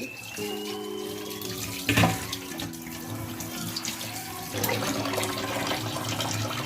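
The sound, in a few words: washing fish pieces under running water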